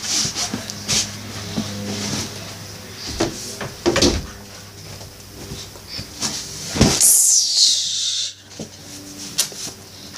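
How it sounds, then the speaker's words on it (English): A door is shut indoors with a few thuds and knocks, then a louder burst of sliding and clattering before a moment of near silence, followed by more light knocks. "Closing the door."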